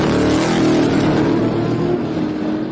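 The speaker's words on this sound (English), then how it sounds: "It has the inline 6-cylinder Ford Barra engine with a big turbo on it." A roaring turbocharged Ford Barra inline-six drag race car engine at high revs, loud and close, with a buzzing, rasping drone that holds steady throughout.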